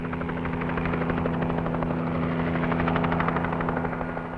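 A helicopter hovers close by over a racing yacht at sea, its rotor producing a loud, steady rhythmic thudding over a constant engine drone, with no voices.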